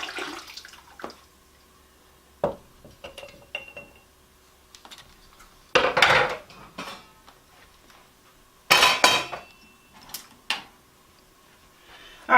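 Glass canning jars clink and clatter in short, scattered bursts during ground beef canning with broth. There are quiet gaps between handling noises and no voices.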